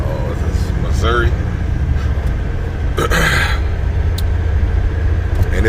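A heavy Volvo truck with an 11-liter engine, hauling a heavy tank, drones along with a deep, steady low rumble that fills the cabin. People talk over it.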